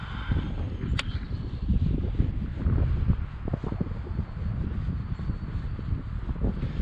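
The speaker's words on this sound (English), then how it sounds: "Now the wind is blowing me right straight into the shore here." Changeable wind blowing across open water near a shore, heard from a small boat as a continuous rumbling buffet of wind noise against the microphone, loud and unbroken throughout.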